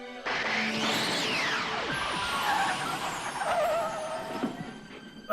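The DeLorean from a Back to the Future video game arrives with a sweeping whoosh and a rising mechanical whine, fairly loud and close, followed by hissing and clattering settling noises.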